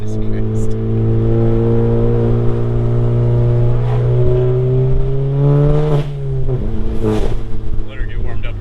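A Stage 2 EQT-tuned VW Mk7 GTI revs loudly and close by, its engine note holding and then climbing before sharp popping cracks break through near the end, with voices over the engine.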